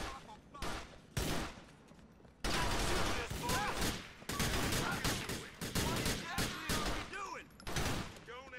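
Dense, continuous gunfire rattles in heavy volleys with scattered single shots, loud and close amid chaotic game action in Grand Theft Auto IV: The Lost and Damned.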